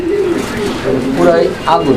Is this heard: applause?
no